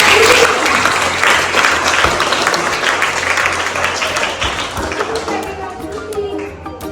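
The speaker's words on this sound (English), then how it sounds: "Let's give a round of applause" An audience at a sugar-awareness talk breaks into loud, dense applause. The clapping thins and fades toward the end while a voice speaks faintly underneath.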